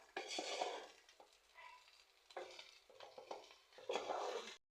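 Egg fried rice with salt and white pepper is stirred in a pan, several bursts of scraping and tossing against the metal with a light sizzle, separated by brief pauses, close and clear.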